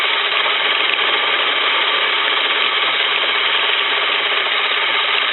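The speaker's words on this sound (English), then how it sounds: "this little Chinese lathe, is where I make all my knobs" A small Chinese lathe running steadily, a constant whirring mechanical drone with a fine rattling texture, close and loud, unbroken for several seconds with no talk.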